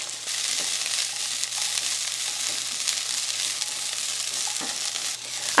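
Broccoli hitting an overly hot pan, producing a loud, continuous hiss and sizzle close by, with a few clatters and a sharp burst at the very end.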